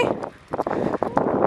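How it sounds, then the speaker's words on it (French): Gusty wind buffets the microphone in rough, uneven bursts, a close rumbling roar that swells and dips. "Il y a beaucoup de vent ce matin."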